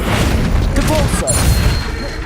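Depulso spell cast in Hogwarts Legacy, a forceful booming blast with thudding impact and rushing noise, loud and close, followed by a short bright ringing chime as it fades.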